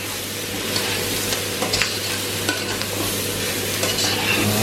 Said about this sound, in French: On va laisser un peu colorer les légumes, mais toujours en tournant